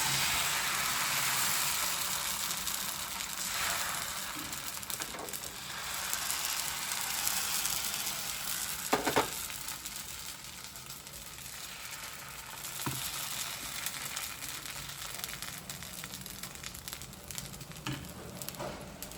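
Rava batter spread like a dosa on a hot non-stick pan gives a faint, steady sizzle. The hiss runs on throughout, with a few soft scrapes and clicks from the pan.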